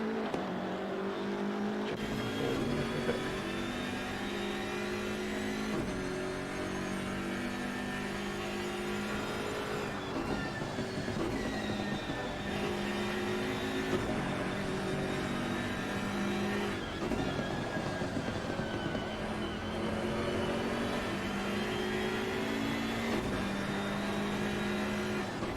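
A BMW M6 race car in Assetto Competizione at Brands Hatch drones steadily with a loud, continuous engine note, rising and falling as it revs through gear changes, with no talk over it.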